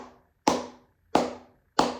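Three flamenco palmas claps made with cupped palms, each a round, muted, dull smack with a quick decay, evenly spaced and close, with no talking.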